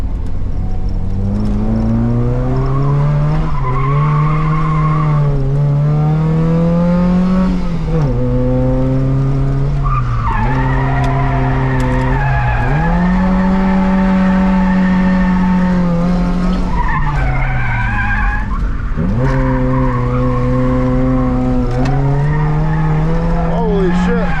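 A Volvo 740 drifts loudly at close range, its tires slipping with long screeching squeals that rise and fall in pitch over a constant engine drone, sustained nearly without break.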